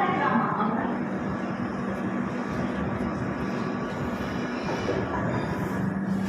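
The 12834 Howrah Ahmedabad Superfast Express runs at night just after leaving a station, producing a steady, close rumble and clatter of carriages with faint squeal, continuous for the whole stretch.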